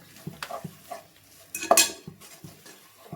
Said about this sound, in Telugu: ఇప్పుడు కలపండి మంచిగా